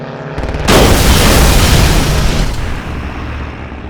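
A fighter plane, likely wartime, loops around for another pass after attacking an enemy plane. A sudden loud roaring rush swells in, holds for about two seconds and then fades, heard up close with no talk.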